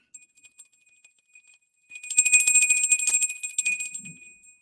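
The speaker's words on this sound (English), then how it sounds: "Love my little bell." Quiet at first, then a small bell rings in a bright, shimmering burst that trails away, with a soft thump near the end.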